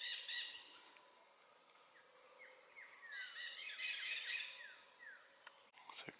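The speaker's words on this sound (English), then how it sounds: "The dusky-headed parakeets up there, squawking away." Dusky-headed parakeets squawk in the treetops of Ecuadorian forest, their short, faint calls scattered over a constant high insect drone that runs through the whole stretch.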